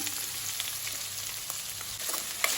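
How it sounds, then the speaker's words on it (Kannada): Chopped onions crackle in a pan with a steady, fairly soft sizzle throughout, with no voices. They are being fried for a spinach and pea gravy. "ಈರುಳ್ಳಿ ಹಾಕಿ ಚೆನ್ನಾಗಿ ಫ್ರೈ ಮಾಡ್ಕೊಳ್ಬೇಕು"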